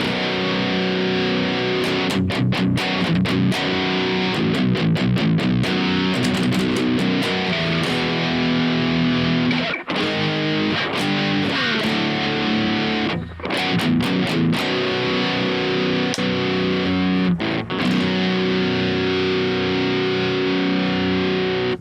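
A heavily distorted electric guitar, an Ibanez GIO seven-string with Fishman Fluence Tosin Abasi pickups, plays thick, crunchy riffs with brief stops, loud and continuous for the whole stretch.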